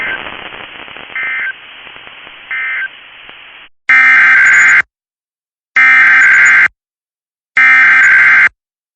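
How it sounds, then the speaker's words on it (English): Weekly test of a warning alarm system on a Michigan weather broadcast: hissy static with short tone bursts, then three loud, steady beeps of about a second each, evenly spaced by silence. "This concludes the weekly test of the warning alarm system."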